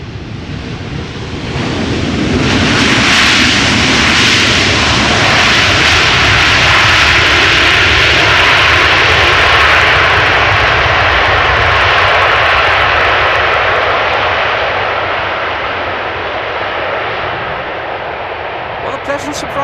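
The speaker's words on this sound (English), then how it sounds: "this is the A330-200 arriving from Toronto" An Airbus A330-200 arriving from Toronto lands at Amsterdam Schiphol Airport, its loud jet roar swelling over a couple of seconds, holding steady and strong, then gradually easing away.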